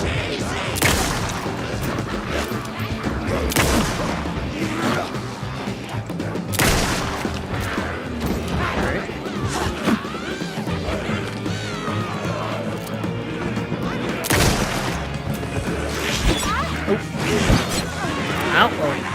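Rifle fire in Alan Wake 2, several sharp shots spread across a noisy combat scene with crashes and impacts, while someone talks throughout.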